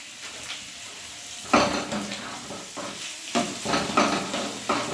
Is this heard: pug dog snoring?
no